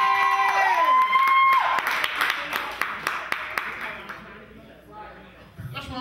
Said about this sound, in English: Big round of applause for that, ladies and gentlemen.